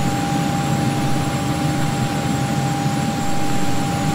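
Simulated Hawker 850XP business jet engines whine steadily during taxi, a loud, constant roar with a sharp high tone throughout.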